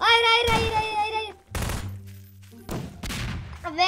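Explosions from a thrown bomb in a Garry's Mod Prop Hunt match, several sharp loud blasts separated by short gaps, with a musical tone over the first and a faint voice at the end.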